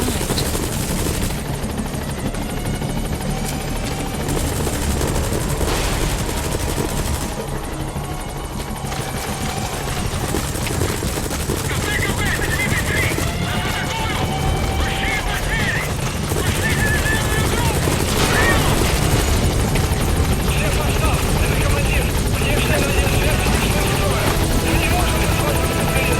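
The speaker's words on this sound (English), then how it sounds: "Support helicopter has arrived." Support helicopter arriving in Metal Gear Solid V: The Phantom Pain, its rotor a steady loud drone throughout with in-game radio chatter and scattered gunfire mixed in.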